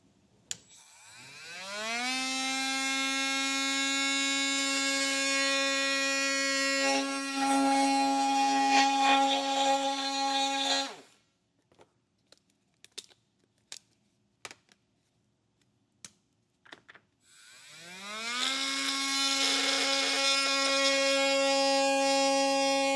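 A power tool cutting a plastic bracket on a 2022 Volvo whines up to a steady high-pitched drone, stops for a stretch of scattered clicks and taps, then spins up again.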